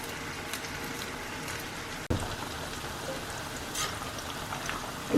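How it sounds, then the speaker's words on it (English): Chicken chukka fries in a pan, a steady crackling sizzle throughout with a brief clatter near the middle and a louder spatter at the end. "Still we need to fry for some time. So keep frying."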